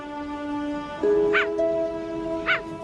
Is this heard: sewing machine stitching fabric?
no